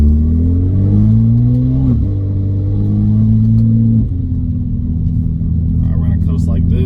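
A car on full E85 fuel pulls hard in third gear, its engine a loud, close droning growl with rising pitch, a brief dip near two seconds, then easing to a steadier rumble while a voice speaks faintly.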